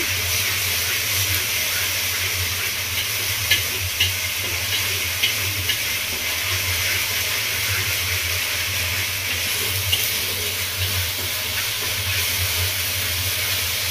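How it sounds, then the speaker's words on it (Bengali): Spice paste stir-fried with salt in a pan for Bengali village-style doi katla gives a steady, even hiss over a low continuous hum, with a few faint knocks and no break for nearly fourteen seconds. "লবণটা দিয়ে মশলাটাকে ভালোভাবে কষে নেব।"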